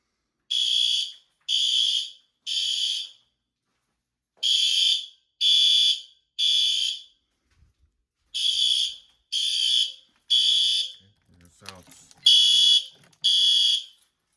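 A fire alarm in a garage sounds in repeated groups of three shrill electronic beeps, loud and close, with a brief clatter partway through.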